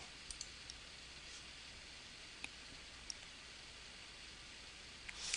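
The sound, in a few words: computer mouse clicking in invoicing software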